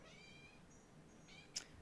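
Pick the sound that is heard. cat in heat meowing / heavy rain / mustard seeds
cat in heat meowing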